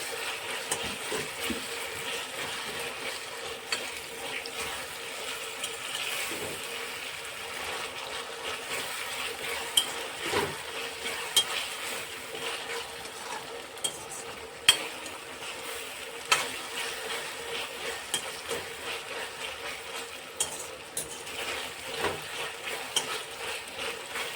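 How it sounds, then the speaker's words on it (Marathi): Potatoes frying in oil for vegetable pulao give a soft, steady sizzle, quiet and close, with occasional faint clicks of stirring. "ते पहिले टाकूया तेला चांगलं असं तेलामध्ये असं फ्राय करून घेऊया"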